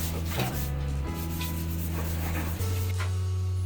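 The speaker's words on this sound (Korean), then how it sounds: "연필 자국을 간략히 지워주고요" An eraser rubs out pencil marks during fixture installation in a semi-basement bathroom, making several short back-and-forth scrubbing strokes close up over a steady low hum.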